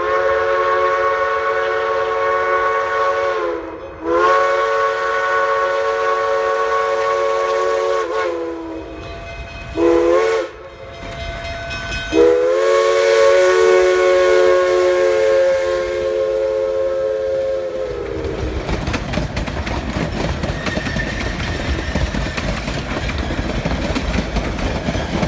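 A K-28 steam locomotive pulls a freight train without a caboose near Hermosa, sounding long, loud whistle blasts with short breaks before the rumble and clatter of the passing train take over.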